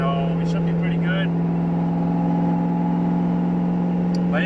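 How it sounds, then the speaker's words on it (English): A steady, loud tonal drone fills a car cabin at highway speed above 90 miles per hour, a constant low hum with road noise, while a person talks briefly at the start and end. "A lot of drone going on when you drive more than 90 miles per hour"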